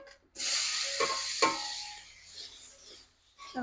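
Cumin, bay leaves and dried red chilies dropped into leftover fish-frying oil for a fish curry, erupting into a sharp hiss that swells, crackles with a couple of spits, then fades before a fresh burst at the end.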